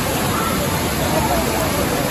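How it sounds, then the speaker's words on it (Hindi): Hidden Shirvane waterfall near Juinagar, Mumbai, a dense, steady roar of falling water filling the whole short stretch, loud and close, with faint voices mixed in. "अरे अपना झरना"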